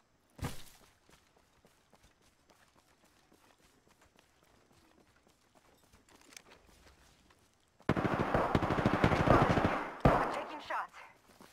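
Gunfire in Apex Legends gameplay, with a sharp shot at the start, quiet footsteps and small clicks, then a loud sustained burst of automatic fire with heavy impacts near the end.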